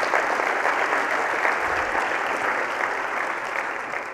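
Audience applause fills a conference keynote hall, a dense, steady wash of many clapping hands heard close and alone, holding level for a few seconds before easing slightly at the end.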